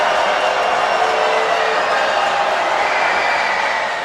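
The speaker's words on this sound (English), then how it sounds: "Crowd even louder this time." Basketball arena crowd roaring during a free throw at an FAU versus UAB men's college game, a loud, dense, sustained wall of cheering and noise throughout with no break.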